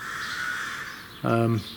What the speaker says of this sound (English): I can hear a magpie and that, or a couple of magpies chattering